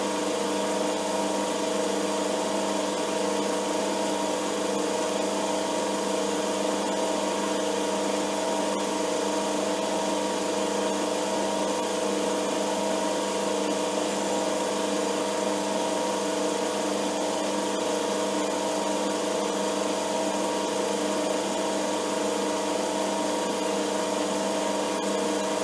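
Metal lathe cutting steel, with the workpiece held in an ER32 collet chuck: a continuous steady motor whine and cutting drone with tonal hum, unbroken for about 25 seconds at an even level, no talking.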